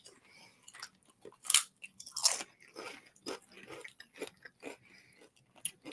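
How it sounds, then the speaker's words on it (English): Belgian potato chips crunch loudly as someone bites and chews through them, producing irregular, close snaps and crackles with a couple of especially sharp bites near the middle and no talking. "You're just eating potato chips the whole time."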